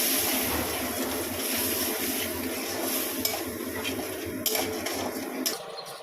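Spices frying with a splash of water in a pan for a Bengali village dish, loud continuous hissing sizzle with occasional stirring scrapes and clinks over it.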